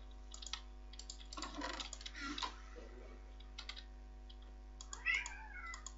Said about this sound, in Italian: Ah, il gatto. Ho sentito.